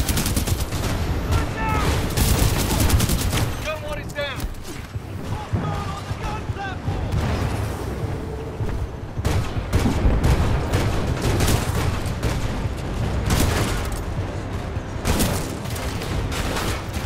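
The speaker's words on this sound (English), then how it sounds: "We can't move up while those guns are firing." Sustained gunfire from mounted guns in the shooter game Titanfall 2, dense bursts and rattling shots over a constant roar of battle and ship noise, with brief game dialogue mixed in.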